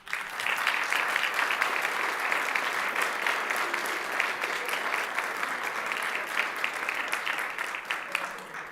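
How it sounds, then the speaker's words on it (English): Legislators on an assembly floor at the opening of a session give a dense, sustained round of applause that stays steady and close for several seconds before tapering slightly. "legislators, I would like you to give a round of applause to all who supported you up to this moment"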